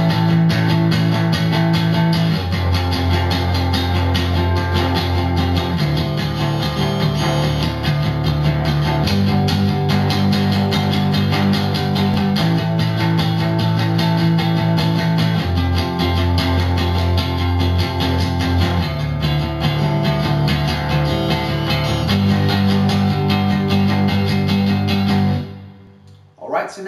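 Electric guitar plays the chorus of a song twice: dense, loud, distorted chords changing in a steady repeating pattern, ending abruptly near the close.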